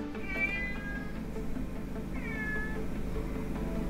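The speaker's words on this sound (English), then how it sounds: "It's a cat." A cat gives two short, rising meows about two seconds apart, fairly faint over a low steady background hum.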